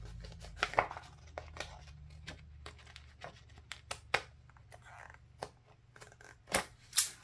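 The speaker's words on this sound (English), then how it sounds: "those scissors aren't working that great" Scissors snipping through a paper planner sheet, a series of sharp, irregular cuts with rustling between them, close and fairly quiet, with no talking.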